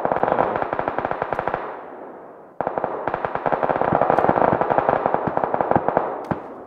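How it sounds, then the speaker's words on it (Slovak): Rapid automatic gunfire rattles in a shooter video game, two long bursts of sharp, evenly spaced shots separated by a brief gap, fairly close and loud with no talking. "Na strieľanie počujem, nikoho nevidím"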